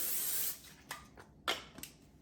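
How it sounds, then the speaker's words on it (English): A short hiss of cooking spray onto a baking pan, followed by a few light clicks and taps of the pan being handled nearby. "All we need to do now is spray our pan"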